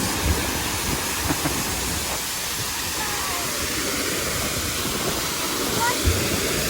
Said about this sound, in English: On the fjord safari, you get very close to some of the famous waterfalls.